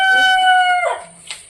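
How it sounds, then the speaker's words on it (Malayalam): A rooster at home gives one loud, close crow that holds steady, then breaks and trails off, followed by a brief faint sound. "കോഴി കൂന്നു."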